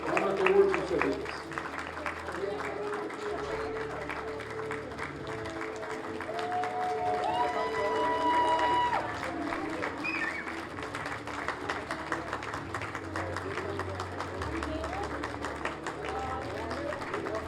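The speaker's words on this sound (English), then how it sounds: "Put your hands together and help us welcome the 2016 Monarch Awards recipients." An audience at the 2016 Cal OES Monarch Awards ceremony applauding to welcome award recipients, sustained dense clapping through a large room with a voice talking over it early on.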